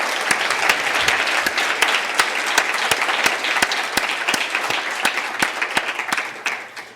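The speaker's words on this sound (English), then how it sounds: "And please, a round of applause for Jessie." An audience at a conference plenary session claps steadily for several seconds, a dense crowd applause that thins slightly toward the end.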